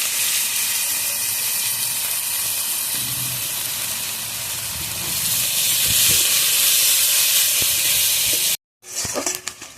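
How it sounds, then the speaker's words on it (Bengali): Onions and green chillies fry in hot oil with cumin seeds in a pan, a loud, steady sizzle that continues for several seconds, then drops out briefly before resuming with a burst of hissing. "তো পেঁয়াজটা ভালোভাবে ভেজে নিয়েছি"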